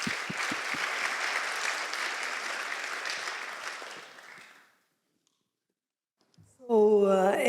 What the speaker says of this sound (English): please join me in giving a warm applause for Valentina